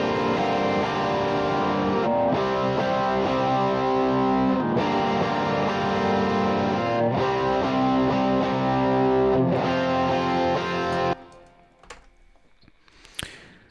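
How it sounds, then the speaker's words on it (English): Distorted electric rhythm guitars, one panned left and one right, drive a thick sustained chordal wall with brief regular breaks, leading into a chorus, then cut off to a few faint taps and ticks. "Next we have the electric rhythms left and right parts."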